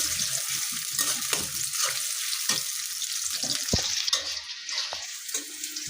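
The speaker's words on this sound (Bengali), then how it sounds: "পেঁয়াজ কুচি ভেজে নিচ্ছি।" Chopped onion fries in oil in a wok, a steady close sizzle with occasional stirring scrapes and light clicks running throughout.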